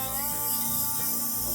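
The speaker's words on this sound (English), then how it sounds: "I will spray" Cooking spray misting into a loaf pan, a steady continuous hiss for a second or so, close and fairly loud.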